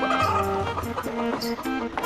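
A hen clucks in a cartoon scene, a run of steady, tonal clucks that rise and fall over about two seconds, loud and close, with no talk over them.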